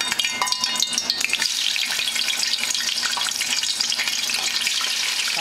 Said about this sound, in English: Time to fry these.